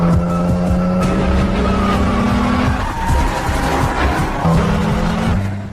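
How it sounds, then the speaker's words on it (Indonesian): A car speeds off from a parking area in an action scene, engine roaring and tires squealing loudly, a sustained close, aggressive acceleration with skidding over a few seconds. "masuk ke sebuah mobil, lalu melaju kencang"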